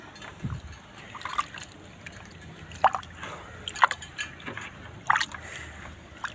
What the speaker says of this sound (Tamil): புளிச்ச மோர் ஒரு வாரம் ஆகுதுங்க அதையும் சேர்த்து கலந்துக்கலாம் கலந்துக்கிட்டு நல்லா கைவிட்டு கலந்துக்குங்க